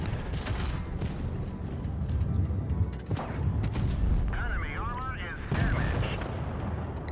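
A tank gun in World of Tanks Blitz fires with heavy booming blasts over a constant rumble of battle noise, other shots and effects following close behind.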